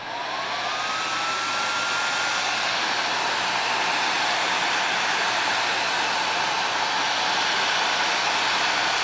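A heat gun blows steadily and close as it heats a PCV fitting for a Chevrolet Cruze PCV fix kit, a continuous airy whoosh with a faint rising whine near the start and no voices.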